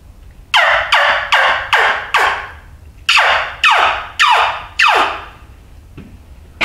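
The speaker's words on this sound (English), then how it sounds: "And then a yelp." A series of loud, raspy turkey yelps from a homemade wing bone turkey call, first a run of five quick notes, then a short pause and four more, played up close.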